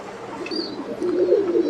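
Pigeons at a breeding farm coo in low, rolling murmurs that swell and overlap, close and fairly loud, with a brief faint chirp above them.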